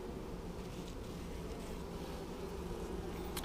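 Steady low hum of honeybees in a queenless hive split where laying workers have taken over, a dense continuous buzz close by with no talking.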